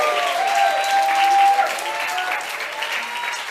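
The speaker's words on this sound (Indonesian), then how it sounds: "Berikan tepuk tangan bagi dia." Applause from a church congregation at an apostolic school gathering, steady dense clapping filling the room for a few seconds with faint voices mixed in.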